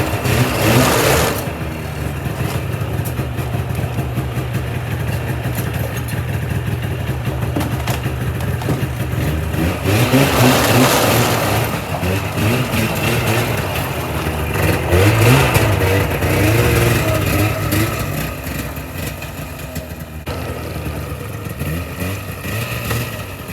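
A work machine engine revs steadily as it backs out of a slide before heading into the bush, running continuously at a buzzing, fairly loud level with a few swells in pitch.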